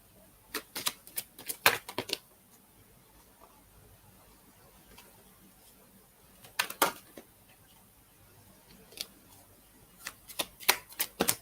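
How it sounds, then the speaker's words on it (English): A tarot deck is shuffled in three clusters of crisp, rapid clicking riffles, close but fairly quiet, separated by near-silent pauses. "Okay, so Fatoumata, I really shuffled the deck like a lot, and you had the same two cards."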